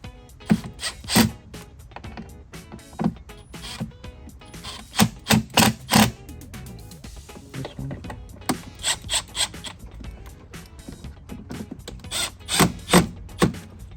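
Screws being tightened on a Harley-Davidson 5x7 to 6x9 speaker adapter for a Street Glide or Road Glide, giving close, bursty mechanical ratcheting and clicking in short runs with pauses, no talking.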